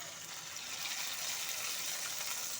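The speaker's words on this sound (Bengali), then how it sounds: "এখন এর মধ্যে দিয়ে দিচ্ছি পরিমাণ মতো জল।" Water pours steadily into a pan of black cumin fish curry with potatoes, a soft, continuous gushing splash close by that runs without a break and then stops abruptly.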